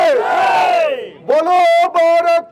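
A crowd at a memorial gathering for the victims of the Pahalgam attack answers a leader's call with loud, drawn-out chanted slogans in short separate bursts.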